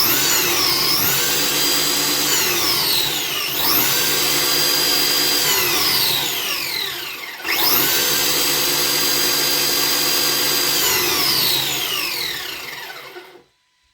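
A JLB Cheetah RC car's electric motor whines loudly and close, rising to a high-pitched scream in two long full-throttle runs separated by a brief drop, then cutting out abruptly.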